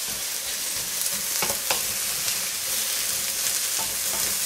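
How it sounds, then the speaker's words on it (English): Zucchini and greens stir-fry in a hot pan, giving a steady close sizzle with a few scraping stirs of a utensil against the pan bottom throughout, no talking. "we're just going to stir this around until the zucchini is softer"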